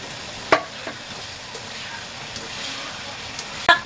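Carrots and other vegetables going into adobo in a pan, a steady close sizzle with a few sharp clinks and knocks of the utensil against the pan.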